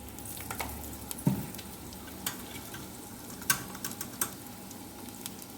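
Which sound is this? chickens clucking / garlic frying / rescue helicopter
garlic frying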